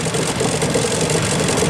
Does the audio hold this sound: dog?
no